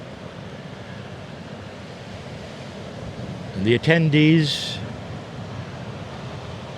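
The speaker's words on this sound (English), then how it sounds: "you might even hear the ocean and the wind as we are in a public place" Steady surf and wind roar on a Kauai beach, a broad continuous wash under a brief burst of nearby talk from the crowd.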